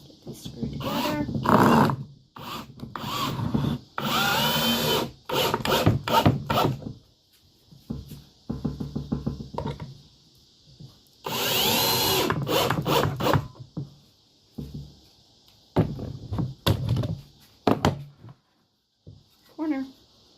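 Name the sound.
power drill screwing boards together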